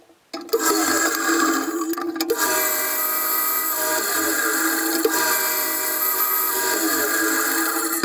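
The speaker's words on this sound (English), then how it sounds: "we want to cut everything to width, ripping it on the bandsaw." A bandsaw rips wood to width for drawer parts, giving a loud, continuous whine and rasp after a short quiet start, with the pitch shifting slightly as each board feeds through.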